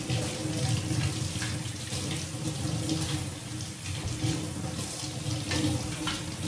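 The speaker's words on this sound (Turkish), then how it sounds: "Evde de bir dünya şey yıkıyorum ben, makine haricinde" Kitchen utensils such as knives, wooden spoons, grater heads and plastic items are washed by hand under a running tap in a home sink, the water flowing steadily and close with light clinks and splashes throughout and no talking.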